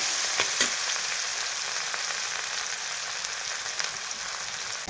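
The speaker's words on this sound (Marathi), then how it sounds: "आता हे टोमॅटो आहे छान परतून घ्यायचं" Tomatoes sauté in hot oil with a pinch of turmeric for a Maharashtrian stuffed brinjal curry, a steady close sizzle with faint stirring scrapes running throughout.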